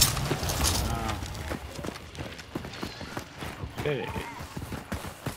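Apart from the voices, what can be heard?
horse hooves clip-clopping in Hunt: Showdown video game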